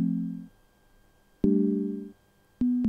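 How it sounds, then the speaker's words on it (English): Three separate notes from a sine wave synth with a piano-like envelope, each starting with a sharp attack and fading over about half a second, playing alone and clearly with short silences between them. "just make it more of like a piano, so like a decaying synth sound"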